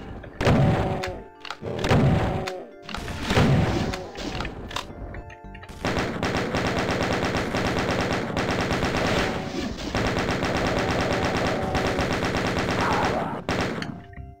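Chaingunner enemies in Doom firing chainguns, rapid dense gunfire that comes in three short loud bursts and then a long sustained volley, mixed with game thuds and music.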